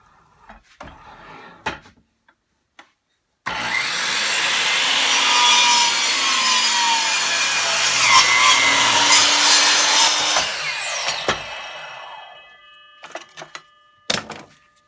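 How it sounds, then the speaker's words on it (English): A sliding saw cuts steadily through wood for about seven seconds, a loud continuous rasping drone that ends abruptly, with lighter knocks and handling clatter before and after in a workshop setting. "this method with the sliding saw is definitely the truest"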